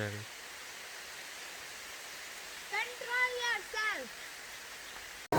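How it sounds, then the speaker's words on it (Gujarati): Steady hiss of rain falling in big drops throughout, at the Ranuja fair in Bhangor, with a short warbling call rising briefly over it midway. "આમ તો વરસાદ તો મોટા મોટા છાંટે આવી ગયો."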